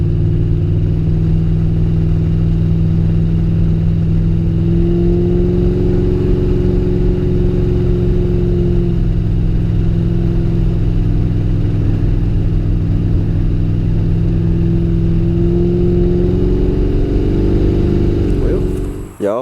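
A Chevy box car engine runs at a steady, loud idle and overheats, with poor oil pressure. The throbbing low hum holds for about nineteen seconds, with slight rises in pitch, before it cuts off abruptly at the end.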